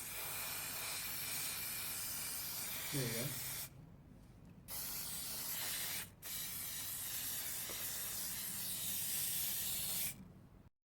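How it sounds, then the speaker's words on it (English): An aerosol spray paint can hisses steadily over a cosplay staff for an Elementalist Lux water-themed prop, in several long sustained bursts with short pauses between them. A voice speaks briefly. "take my spray paint, shake it, and then spray it all over"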